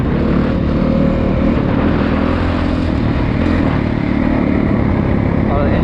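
A 2022 Honda CRF450RX dirt bike's 450 engine roars steadily and loudly while being ridden, with constant close engine noise and wind throughout and a voice faintly mixed in.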